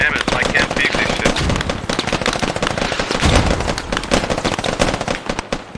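Sustained automatic fire from an M249 machine gun mixed with rifle shots in the military shooter game Squad, dense rapid bursts crackling loudly without pause.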